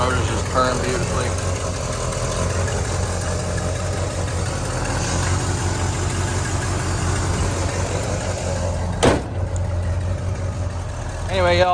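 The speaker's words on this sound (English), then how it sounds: "Motor's just purring beautifully." A 1970 Oldsmobile 442 with its numbers-matching 455 V8 idling in the engine bay, a steady low rumbling burble heard close and continuous, with someone talking over it and a brief sharp knock near the end.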